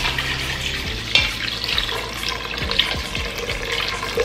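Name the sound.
water poured into pot for sambar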